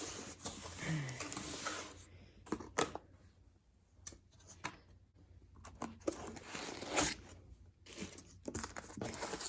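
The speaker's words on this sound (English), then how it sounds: "Gotta cut the tape." Packing tape on a shipping box being cut open in a van, giving repeated tearing and crunching scrapes in short bursts with quiet gaps between, close and fairly soft.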